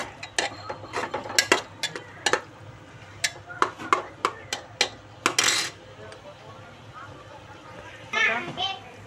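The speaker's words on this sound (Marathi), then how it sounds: "अद्रक लसूण मिरची कोथिंबीर पेस्ट केलेली थोडी टाकून घेते। हे चांगलं मिक्स करून घ्यायचं।" A spoon clinks and scrapes repeatedly against a pan while ginger, garlic, chili and coriander paste is mixed in, giving rapid, irregular metallic taps close by, with a voice speaking over them.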